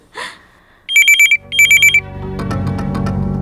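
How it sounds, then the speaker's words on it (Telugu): A telephone rings close and loud in two quick trilling bursts, then dramatic background music swells in after the ringing stops. "అదిగో చూసావా, ఫోన్ కూడా మోగింది."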